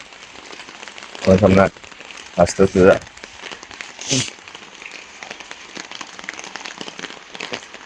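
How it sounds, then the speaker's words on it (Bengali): Rain falls outdoors in a village during a hailstorm in the first rain of the year, giving a steady patter under short bursts of nearby voices. "অনেক সুন্দর একটা বৃষ্টি আসতেছে"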